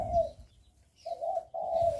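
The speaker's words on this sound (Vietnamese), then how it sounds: "nhận biết cái cách gáy nè, gáy gọi rồi gáy thúc" Spotted dove cooing close by: a soft, low coo, a pause, then a longer run of cooing, with no other sounds.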